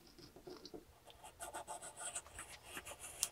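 Blade scraping and rasping through cardboard as a circle is cut out for a miniature wicker dollhouse shelf, a quiet close scratchy rustle of short irregular strokes with a faint click at the end.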